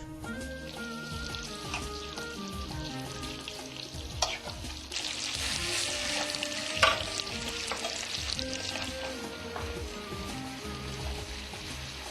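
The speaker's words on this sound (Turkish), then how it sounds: "Et kısmında da öncelikle etin iki tarafı tereyağında kızartılıyor." Meat sears on both sides in butter, a dense continuous sizzle and crackle with occasional stirring scrapes and clinks, close and steady throughout with no talk.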